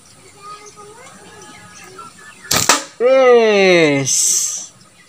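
A handmade wooden slingshot fired at a target about ten metres off: a sharp snapping crack of the release, close and loud, then a voice speaks right after.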